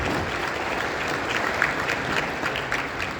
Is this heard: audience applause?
yes